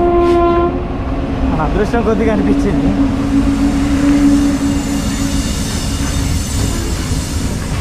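A train on the Araku railway line near Katiki Waterfalls, Visakhapatnam, sounds its horn loudly, then rolls past with a heavy, steady rumble and clatter while a person talks over it.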